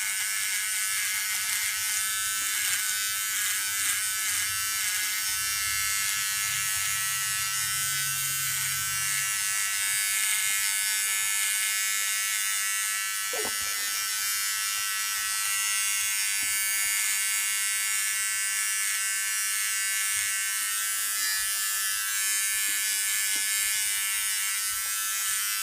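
A Remington Durablade electric shaver shaving off a mustache gives a steady, close buzzing hum with slight changes in pitch as it moves over the skin. It continues without a break for the whole stretch, and no one speaks.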